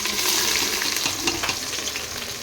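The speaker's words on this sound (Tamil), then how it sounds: "இது பொன்னிறம் ஆகிற வரையும் நம்ம வந்து நல்லா வணக்கிட்டே இருக்கணும்" About five large sliced onions frying in oil for chicken biryani give a dense, loud, continuous sizzle, with light crackles and faint stirring scrapes, and no voices.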